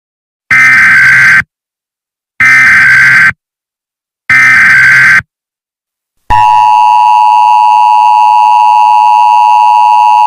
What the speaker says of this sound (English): This is an emergency alert notification.